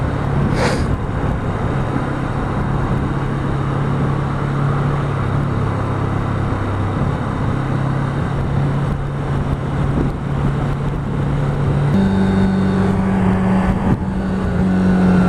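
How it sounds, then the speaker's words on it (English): A car approaches along a road outside, its steady engine rumble holding throughout, with the engine note shifting as it draws nearer near the end; no talking. "There's a car coming."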